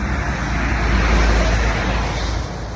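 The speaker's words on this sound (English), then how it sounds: "these lorries are going past me" Heavy lorries driving past on a roadway outdoors, a loud broad rushing roar with a deep low rumble that swells and then eases slightly toward the end.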